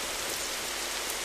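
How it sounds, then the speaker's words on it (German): Heavy rain pours down outdoors in a steady, dense hiss of drops hitting surfaces, loud and unbroken for the whole moment. "Ich gehe nochmal in strömenden Regen hinaus."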